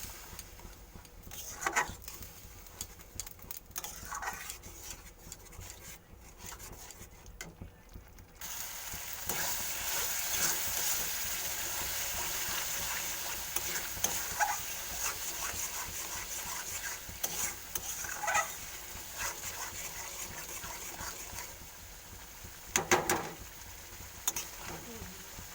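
Spice masala with ginger water gets stirred and sautéed in a pan for paneer, a steady close sizzle that swells when the liquid goes in, with a spoon scraping and rubbing against the pan.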